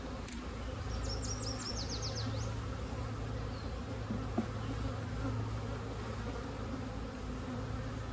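A dense, steady buzzing hum of many honeybees swarming close by, continuous throughout, with a brief bird chirp early on.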